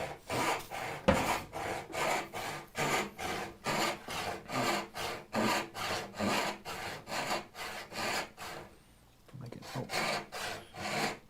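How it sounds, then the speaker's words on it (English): A hacksaw cuts a wood dovetail joint in a steady back-and-forth rhythm of rasping strokes, loud and close, with a brief pause near the end before sawing resumes. "it actually cuts a really nice clean line"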